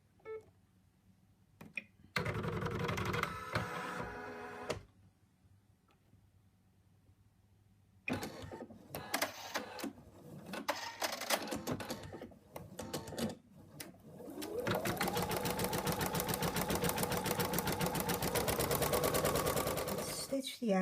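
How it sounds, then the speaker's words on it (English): Embroidery machine stitching the outline of an in-the-hoop wallet in a larger hoop, its rapid mechanical stitching running in bursts with pauses, then a steady louder run toward the end, with talk in between. "I've gone to a larger hoop, and now we're going to stitch out the outline."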